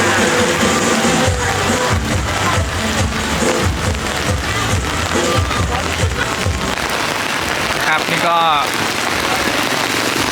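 Steady rain pours on a busy outdoor evening festival with food stalls and a Ferris wheel in Mae Sariang, Mae Hong Son, a loud continuous hiss with crowd bustle beneath and someone talking over it.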